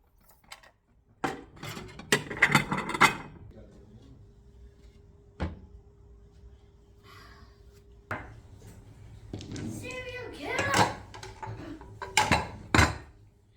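Kitchen pots, dishes and utensils are taken out and set down at home, with sharp clanks, knocks and a cupboard thud in scattered bursts, close by with quiet pauses between and no talking.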